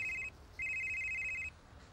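A phone rings in a dubbed Turkish drama scene, an electronic ringtone with a brief burst followed by a longer sustained trill, clear against a quiet room.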